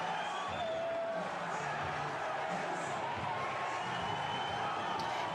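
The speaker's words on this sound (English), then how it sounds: "And the crowd's loving it." Wrestling arena crowd at a tag match, a continuous roar of cheering and whoops from a large audience, steady and fairly loud throughout with a few louder shouts rising out of it.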